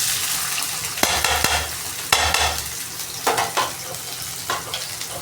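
Onions tossed into a hot pan and stirred, sizzling loudly up close with repeated sharp scrapes and clatters of the spoon against the pan, no talking.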